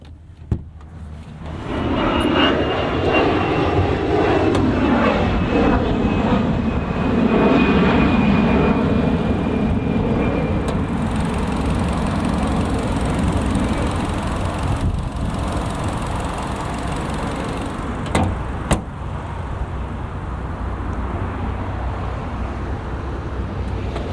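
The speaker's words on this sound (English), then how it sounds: "Rev limiter." A 2022 Hyundai Kona SE engine revs hard toward the rev limiter, with a loud, steady rising drone and harmonic sweeps, then holds a sustained high whine, heard up close from inside the cabin.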